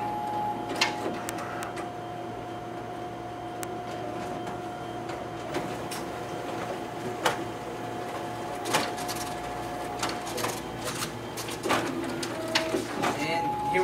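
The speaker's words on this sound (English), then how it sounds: "here we have our copies through the document feeder, stapled and hole punched" A Xerox WorkCentre 7545 copier runs its document feeder, stapler and hole punch, a steady mechanical hum with repeated clicks and thumps, while a voice talks and pigeon-like cooing sounds in the background.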